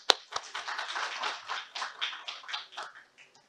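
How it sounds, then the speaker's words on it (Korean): Audience applause welcoming a society president to the podium at a Jeju Forum session, opening with one sharp clap and then a dense patter of hands that thins and fades over a few seconds. "박수로 맞이해 주시기 바랍니다"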